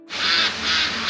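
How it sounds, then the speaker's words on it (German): Ducks on the waterside at Altefähr on Rügen let out a loud, harsh quacking burst close by, with no talk over it. "Guck mal hier die ganzen Enten."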